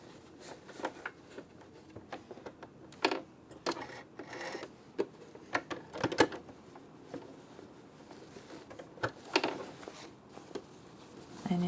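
Sewing machine hemming a red linen skirt, a quiet run of rapid ticking stitches in irregular bursts with short pauses between them.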